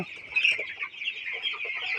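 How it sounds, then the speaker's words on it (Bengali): Farm roosters cluck and chatter together in a continuous, busy flock sound, with a few louder close calls over the steady background. "মোরগগুলো আল্লাহর রহমতে খেলা করতেছে"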